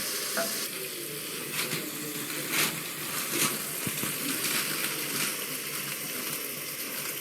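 Misr wat, an Ethiopian red lentil stew, is stirred in a pan on a burner running hotter than ideal. A steady broadband sizzle continues throughout, with repeated scraping strokes from the stirring and no talk.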